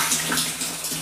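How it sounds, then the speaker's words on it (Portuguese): Rainwater pours steadily off a roof into a collection tank during a rain shower, a broad, close, continuous gushing hiss with no one talking. "E aqui a água já tá caindo. O barulho aí."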